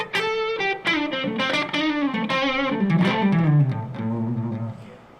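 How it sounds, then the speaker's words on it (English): Electric guitar lead played on the neck pickup with overdrive kept in check by turning the guitar volume down to about 3 or 4; a continuous run of sustained, bending notes with a mild gritty edge and no talking. "I'm trying to control the distortion or the overdrive, so I bring the volume down to like in between 3 or 4."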